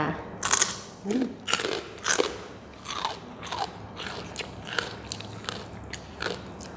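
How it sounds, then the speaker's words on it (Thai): Crispy pork rinds being bitten and chewed up close, a string of loud crunchy bites at an uneven pace followed by softer crackling chews, with a faint voice now and then. "ไอ้แคบหมูเนาะจ้ะนี่เทใส่จาน กรอบๆเลยจ้า"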